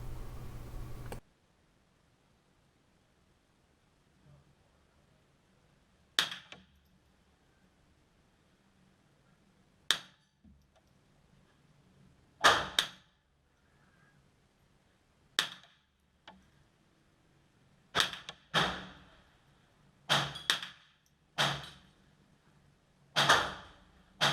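A Ruger 10/22 rifle fires .22LR ammunition in about a dozen sharp, short cracks spaced irregularly, some in quick pairs, with quiet pauses between shots and a brief noise burst at the very start.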